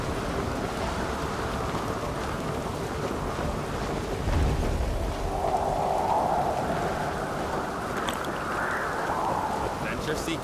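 Rain falling steadily in The Witcher 3: Wild Hunt, with a low rumble of thunder midway, a continuous hiss that fills the scene beneath occasional game voices.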